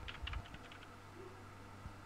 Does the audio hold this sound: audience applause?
no